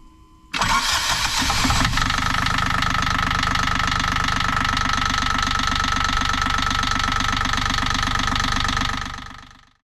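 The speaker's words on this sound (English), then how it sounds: "here's the impeller being done on the Yanmar, and then we fire up." A Yanmar marine diesel aboard a Nordhavn 40 trawler cranks and fires after impeller service, a sharp start burst giving way to a loud, steady, rhythmic diesel idle that runs evenly for several seconds before fading out.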